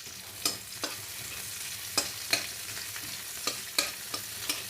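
Onions fry in a pan with a quiet continuous sizzle, punctuated by a handful of sharp scraping stirs and clinks spread irregularly across the short stretch.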